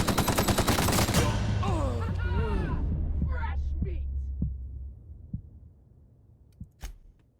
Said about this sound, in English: He's still shooting me through the rock.